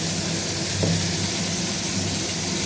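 Cauliflower frying in mustard oil gives off a steady, loud sizzling hiss that holds evenly from start to finish with no talking.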